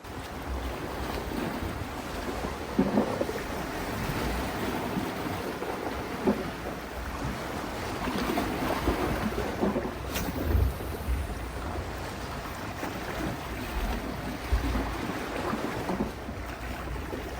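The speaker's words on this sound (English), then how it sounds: "Just listen to the sound of the ocean." Ocean waves washing against a desert island shore, a steady broadband surge of surf mixed with wind buffeting the microphone, continuous and fairly loud with no voices.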